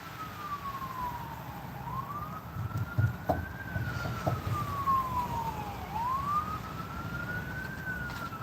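Wailing emergency vehicle siren rising and falling in long, slow sweeps, heard from a moderate distance outdoors over background traffic noise, with no one talking.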